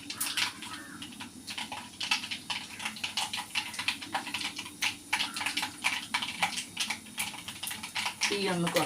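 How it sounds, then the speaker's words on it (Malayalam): Mustard seeds and a few fenugreek seeds crackle and splutter in hot oil, a rapid, continuous stream of sharp pops with a sizzling hiss underneath, heard close and steady. "കടുകെല്ലാം പൊട്ടി വരുന്നുണ്ട്."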